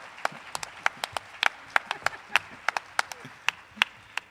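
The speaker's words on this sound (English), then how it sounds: "Can we just all give a round of applause?" Scattered applause at an EdSource education symposium honoring a retiring educator, with distinct, fairly close individual claps in an irregular rhythm rather than a dense roar.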